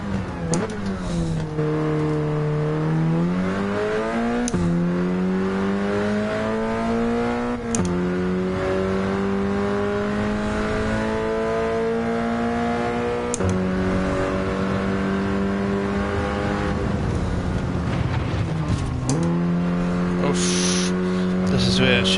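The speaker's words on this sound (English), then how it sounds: "The TVR are very slow through the tight turns." TVR race cars lapping the Spa circuit in Gran Turismo 7 give a loud, continuous engine drone that rises and falls through gear changes and revving, with someone talking over it at times.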